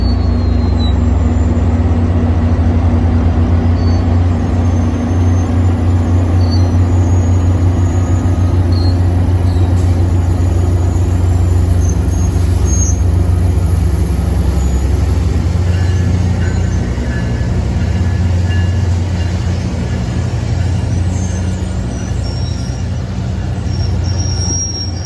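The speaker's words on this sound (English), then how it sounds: "here goes a Metrolink 608 departing San Clemente" Metrolink train 608, led by locomotive 856, departing San Clemente: a steady loud rumble of rolling cars, with thin, high brake squeal running above it throughout.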